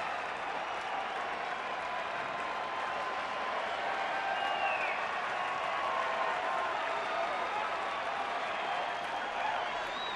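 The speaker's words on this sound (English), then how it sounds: "Crowd here reacting to the news that the Bulls just won in triple overtime over the Celtics" Baseball stadium crowd at a Florida Marlins game at Wrigley Field in 2009, a broad distant roar of applause and cheering that holds steady and unbroken throughout.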